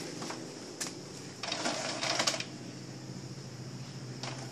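An Epson L210 inkjet printer whirs steadily with a few clicks and brief mechanical bursts of paper feeding, close by and moderately quiet.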